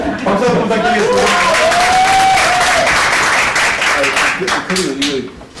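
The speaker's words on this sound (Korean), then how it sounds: "박수 한번 부탁드리겠습니다." Audience applause fills a room at a National Assembly roundtable on movie ticket discount policies: dense, steady clapping from a seated crowd, loud and close, thinning slightly toward the end.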